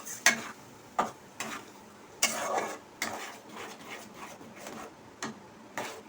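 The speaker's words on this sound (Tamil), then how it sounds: "அடுத்த சிம்மில் வச்சுட்டு கிளறிட்டே இருக்கணும்" Kothu parotta with egg is stirred in a pan over a low flame: sharp metal scrapes and clacks come in irregular bursts over a faint, steady sizzle, close and fairly quiet.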